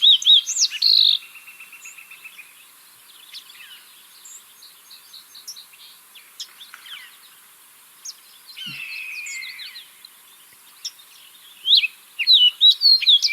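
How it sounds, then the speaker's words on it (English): A fox sparrow singing alone outdoors: sweet clear whistles, quick trills and buzzy notes in separate varied phrases, with pauses between bursts and a louder run of notes at the close. "So this is the fox sparrow."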